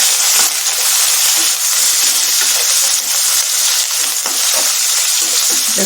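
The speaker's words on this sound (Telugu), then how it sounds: "ఇందులోనే పచ్చిమిర్చి కొద్దిగా కరివేపాకు కొంచెం ఫ్రై అవ్వాలి" Green chillies and curry leaves sizzle and crackle continuously in hot oil in a pan, a loud, dense frying hiss with occasional stirring, no speech.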